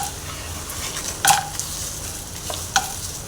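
Mustard seeds, cumin, chana dal and peanuts sizzling in hot oil for ragi upma, a steady close hiss with two sharp clinks of a spoon against the pan.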